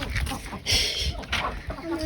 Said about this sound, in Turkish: Tavukları beslemek